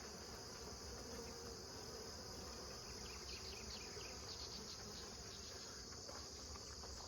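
Steady honeybee buzzing hums continuously around a hive in an apiary in late July, early morning, faint and distant, with a constant high drone underneath.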